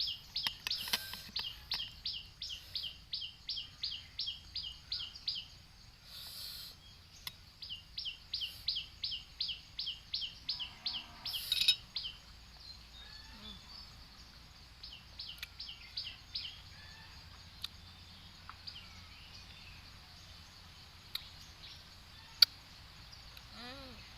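Forest birds chirp in fast repeated bursts of short high notes, clear and fairly close, fading to sparse calls over a low background hum.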